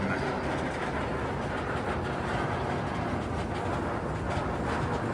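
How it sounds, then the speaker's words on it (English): Valravn, a B&M dive coaster at Cedar Point, its train running with a continuous loud rumble and rattling track noise, steady throughout with no voices. "Time for a B&M dive coaster,"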